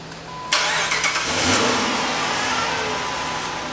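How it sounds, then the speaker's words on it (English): A car engine idling steadily just after a jump start, catching at first then running as a continuous, fairly loud mid-pitched hum with a slight rev near the start. "now that this vehicle is running"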